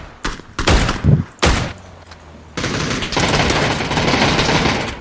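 Video game gunfire: a few sharp shots early on, then a dense sustained volley of rapid bursts that stays loud to the end, with no talking.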